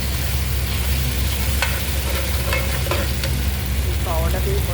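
Chopped onions and tomatoes fry in a pan with a steady, close sizzle, while a utensil scrapes and stirs them in a few brief clinks over the constant frying.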